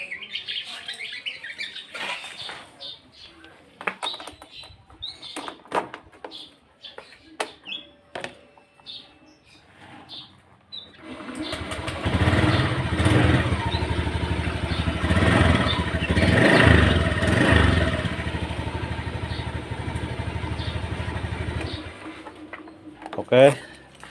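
A motorcycle engine starts after a serviced dry battery is fitted, turning over and then running steadily at close range for about ten seconds before dropping away, following quiet handling noises and birdsong.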